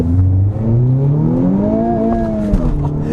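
A 2020 Honda Civic Type R accelerates hard, its engine note climbing steadily in pitch through the revs with a brief dip at a gear change, loud and continuous with no talking.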